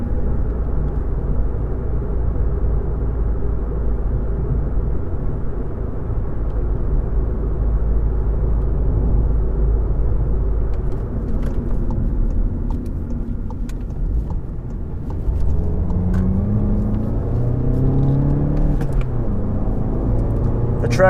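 Engine of a 2015 Volkswagen Golf GTI accelerating on the road, heard from inside as a steady loud low drone that climbs in pitch toward the end, with faint clicks over it.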